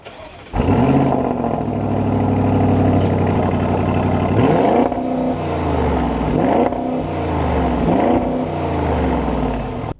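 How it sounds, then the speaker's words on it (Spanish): Audi SQ7 2026 V8 SUV engine fires up with a loud starter catch and rises into a steady rumbling idle, then blips through several sharp revs that climb and fall back, heard close and alone with no talking. "Tendremos la posibilidad de prender el auto desde acá, y suena muy bien cada vez que los prende."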